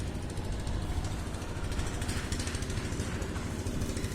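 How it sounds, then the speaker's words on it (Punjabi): Motorcycles and cars circle inside a well-of-death wooden drum at the Maghi fair in Muktsar, a steady, loud, droning engine roar with a continuous rattling buzz and no break. "ਮੌਤ ਦਾ ਖੂਜ ਨੂੰ ਕਹਿੰਦੇ ਆ ਆ ਜਿਹੜਾ ਵੇਖੋ ਤੁਸੀਂ ਇਹਦੇ ਵਿੱਚ ਮੋਟਰਸਾਈਕਲ ਤੇ ਕਾਰਾਂ ਗੱਡੀਆਂ ਜਿਹੜੀਆਂ ਘੁੰਮਦੀਆਂ"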